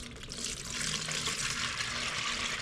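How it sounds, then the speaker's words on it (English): Old motor oil drained from a Wen Power Pro 5500-watt generator that sat four years pours steadily into a bigger bucket, a continuous close liquid splashing stream. "I'm going to pour it in this bigger bucket"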